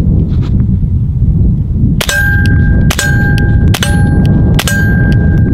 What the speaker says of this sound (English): As you can hear, the steel is way louder than the gun itself.